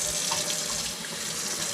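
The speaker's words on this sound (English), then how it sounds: "Hot, super hot, and cold running water in a sink." Water runs steadily from a sink tap in a mobile home, a continuous close hiss and splash with no voices over it.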